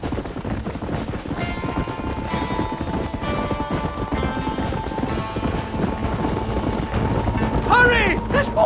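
Hoofbeats of a galloping horse in the Red Dead Redemption video game, a steady clip-clop rhythm running throughout amid music and mechanical game sounds, with shouting voices and action noise building near the end.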